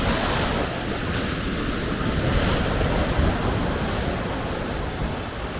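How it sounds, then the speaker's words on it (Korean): Ocean surf roars without a break on a California beach, waves churning and crashing on rocks, with heavy wind buffeting the microphone throughout. "저는 이 파도 부수기가 너무 재밌어"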